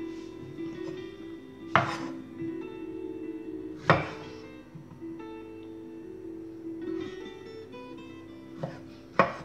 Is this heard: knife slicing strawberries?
yes